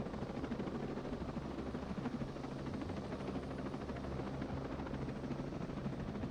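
A helicopter in the video game Ghost Recon Breakpoint gives a steady, continuous rotor and engine drone, moderately loud, with no voices over it.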